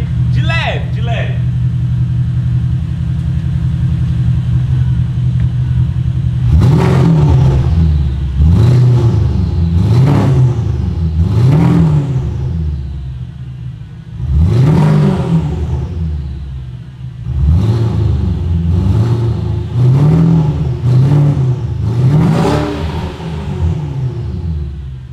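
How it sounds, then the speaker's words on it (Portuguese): A Porsche Panamera engine revs in a series of throttle blips, each rising to a loud roar and dropping back to a deep idle rumble, about a dozen pulses close up after a brief opening sound. "Se liga no ronco desse carro, mano. Vou dar uma aceleradinha de leve, de leve."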